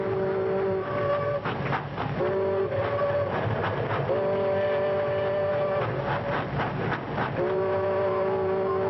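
A train rumbles steadily along the rails with rhythmic clatter, while a horn sounds in repeated long blasts over the continuous roar.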